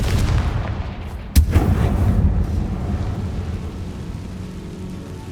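A Confringo spell explodes in the Hogwarts Legacy video game during a dragon fight, a single sharp blast followed by a deep, rolling rumble that slowly fades over a dense low background roar.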